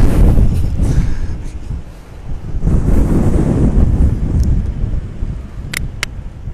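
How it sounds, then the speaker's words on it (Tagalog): Strong wind blowing outdoors at night, buffeting the microphone with a steady low roar throughout, with a brief lull partway and a couple of faint high clicks near the end. "lumakas po yung hangin"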